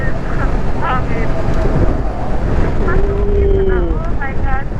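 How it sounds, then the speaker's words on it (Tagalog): Strong wind roars across the microphone during a late-afternoon ride, a constant loud buffeting rush filling the whole stretch, with faint voices buried underneath. "Dahil sa hangin."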